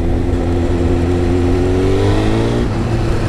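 A Honda CBR929 sport motorcycle engine revs steadily nearby, its pitch climbing slightly before dropping off abruptly near the end, with no voices.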